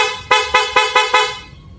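Five quick, loud horn blasts in a fast, even burst from a single press of a rapid horn on a Sniper 150 motorcycle, close by, then fading to quiet.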